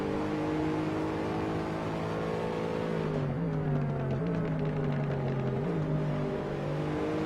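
GT3 race cars, a Ferrari 458 and a Mercedes SLS, howling at Mugello in a racing video game, a continuous loud engine drone that rises and shifts pitch as the cars accelerate and change gear.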